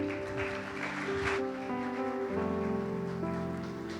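A church congregation claps in a loud, sustained wash of applause, heard alongside music with steady sustained tones.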